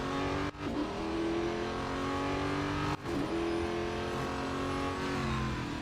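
A race car engine in Real Racing 3 revs hard under acceleration, a loud continuous drone that briefly dips at two gear shifts before climbing again, with no voices.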